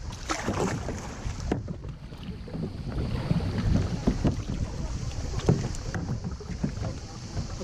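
Steady canoe paddle strokes dip and splash through lake water at Lago di Ridracoli in an irregular rhythm, with light wind buffeting the microphone and no talking.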